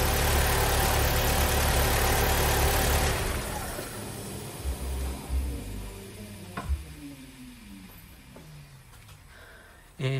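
An Audi A4 Avant engine idles with a dense, steady hum, then cuts out after about three seconds; a low rumble fades away, followed by faint ticking and clicks in the quiet.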